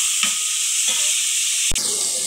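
Tomatoes frying in a pan of leftover dishes, a steady bright sizzle running throughout with a few soft stirring scrapes and one sharp click near the end, no voices.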